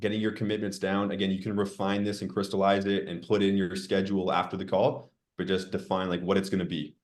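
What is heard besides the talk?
No everyday noise stands out behind the speech.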